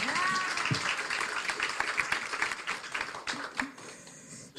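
A studio audience breaks into scattered applause, a dense patter of claps that tapers into a few uneven taps, with a voice talking faintly over it.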